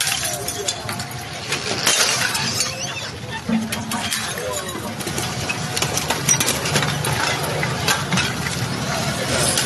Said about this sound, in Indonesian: Ini musnahkan dengan cara dilindas dengan mesin pemadat tanah.